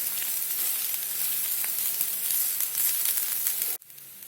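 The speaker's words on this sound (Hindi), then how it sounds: "गोल्डन ब्राउन कलर होने तक हम इसे भून लेंगे।" Grated dry coconut roasting with onions in a pan gives a steady, close sizzle and frying hiss throughout, cut off abruptly near the end.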